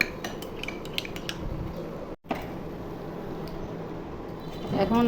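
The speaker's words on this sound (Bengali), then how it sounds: "এখন আমি আধা কাপ পানির মধ্যে 2 চামচ কর্নফ্লাওয়ার মিশিয়ে নিব।" A spoon stirs two spoonfuls of cornflour into half a cup of water, giving quick metallic clinks and scrapes against the container, with a brief pause midway and steady faint room noise.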